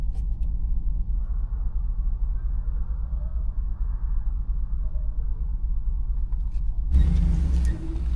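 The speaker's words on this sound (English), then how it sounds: "he just started driving himself, and with it packed down, he was able to pull out with some trailer scrapage" Truck engine rumbling steadily as it pulls a trailer out through packed snow while off-road snow wheeling in British Columbia, low and close, ending in a sudden loud scraping burst near the end.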